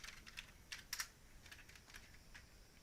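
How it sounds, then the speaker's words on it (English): Keystrokes on a computer keyboard, a quiet irregular burst of light clicks with a brief denser cluster near the middle, close by with no talking. "let's just type in the journey"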